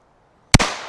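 A single sharp gunshot from a North American Arms mini revolver, a close, loud crack that breaks an otherwise quiet moment and trails off in a short decaying echo.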